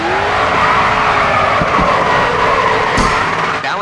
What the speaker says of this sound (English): Next corner, let's see a drift.